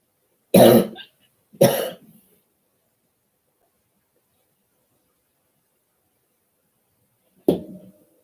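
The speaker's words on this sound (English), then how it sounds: "when I'm a little bit stressed out, I cough more than I normally do." Two quick coughs close together, then silence, then a third cough several seconds later; close and fairly loud, with no talking.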